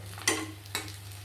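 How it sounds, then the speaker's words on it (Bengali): Potato filling being stirred in a kadai, two distinct scraping strokes of a spoon against the pan over a low steady hum. "আমি এইভাবে কড়াইয়ের মধ্যে আলুটাকে ঘাটিয়ে নিয়েছি"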